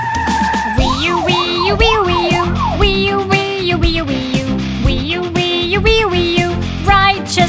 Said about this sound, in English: Speedy police car! Thief-catching police car!